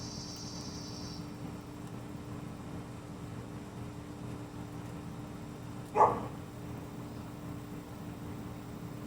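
A dog gives a single short bark partway through, faint and somewhat distant over quiet outdoor background noise, with no talking.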